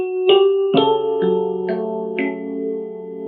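Piano plays a passage of a theme from Final Fantasy VII with both hands, a handful of sustained chords struck in slow succession, each ringing on and overlapping, close and clear with no talking.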